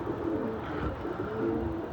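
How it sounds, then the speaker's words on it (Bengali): Pigeons coo in low, soft, repeated throaty calls close by, with no one speaking. "খেলতেছে কবুতর।"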